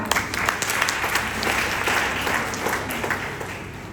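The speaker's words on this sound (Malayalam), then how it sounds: "നല്ല കയ്യടി കൊടുക്കട്ടോ." An audience at a church diocese general body meeting applauds with sustained, even clapping from many hands that runs the whole time at a steady level.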